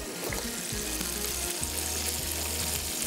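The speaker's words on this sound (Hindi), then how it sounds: "हाँ भाई, अच्छे से हो रहा है फ्राई" Prawns sizzle and fry in a hot pan with onion and tomato, a dense, steady crackling hiss close up, with low sputtering pops underneath and no talk.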